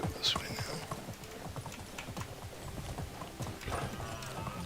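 A horse galloping in the medieval video game Medieval Dynasty, a quick rhythmic run of hoof clip-clops over a faint background, with a brief higher whinny-like sound near the start.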